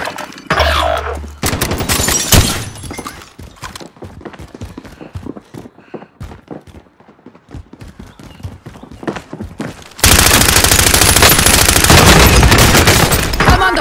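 Gunfire in Call of Duty Warzone on Rebirth Island: bursts of automatic fire up front, quieter scattered shots and clatter through the middle, then loud sustained firing to the end.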